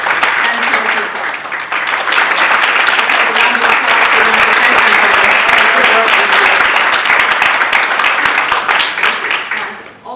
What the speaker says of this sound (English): we can all applaud you at the end.